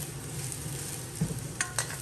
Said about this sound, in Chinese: 放入焯水的土豆，开中火在锅中煎制